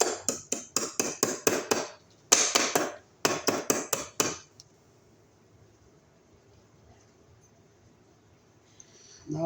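A metal clip is tapped onto MC armored electrical cable in rapid bursts of sharp, close metallic taps, then the sound stops and the room goes quiet.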